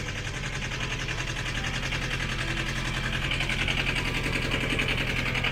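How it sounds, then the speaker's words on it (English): Boat engine running steadily while charging new lithium batteries, a continuous loud mechanical drone with a fast regular chug throughout, heard alone without talk. "So everything looks fine, with the engine charging the new batteries."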